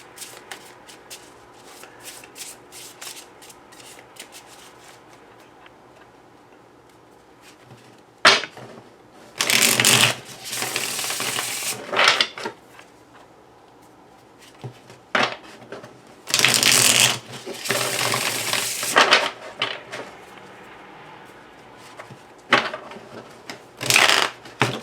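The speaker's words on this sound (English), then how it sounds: "So I know I'm not shuffling it enough to get like a clean or a varied draw" A gilded tarot card deck is riffled and shuffled by hand in several crisp bursts of flapping cards, separated by quiet pauses of handling, close and loud with no speech.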